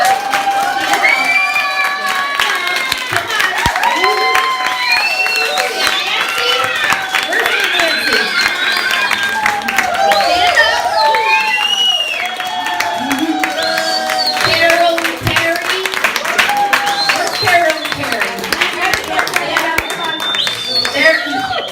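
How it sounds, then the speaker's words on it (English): A crowd at a gathering honoring Sandy and Dan claps and cheers loudly for a long stretch, with whoops, shouts and high voices rising over constant clapping close by. "Let's give a round of applause for Sandy and Dan."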